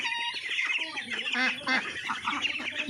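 Ducks of mixed sizes on a village duck farm quack and honk in a busy, overlapping chorus close by, with rapid repeated calls throughout and some talking mixed in.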